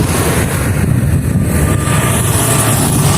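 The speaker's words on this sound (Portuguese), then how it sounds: "Desculpa aí pelo barulho do avião, estou aqui em frente ao aeroporto." Loud, steady roar of an airplane heard in front of an airport, a broad continuous rumble filling the whole stretch with no talking over it.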